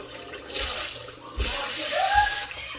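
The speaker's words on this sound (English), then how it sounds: "Turn on the sink." Water gushes from a kitchen sink faucet in a rental house, starting and stopping in short splashing bursts that are close and moderately loud.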